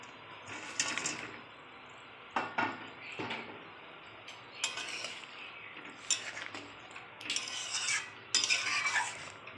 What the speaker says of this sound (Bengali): এইবার আমি ভেজে রাখা মাছগুলো দিয়ে দেব।